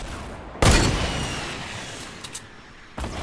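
Assault rifle fire in Fortnite: a loud sharp burst followed by a fading rumbling tail, a couple of faint distant pops, then another shot at the end.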